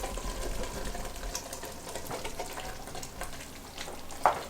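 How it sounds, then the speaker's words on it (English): Italian-style turkey sausage frying in a pan with onions and garlic gives a steady, moderately quiet sizzle, with a short clatter near the end. "Now I'm going to add 2 pounds of Italian style turkey sausage."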